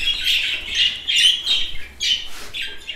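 Young budgerigars give harsh, high squawks and chirps in quick, loud bursts close by as they are being caught by hand.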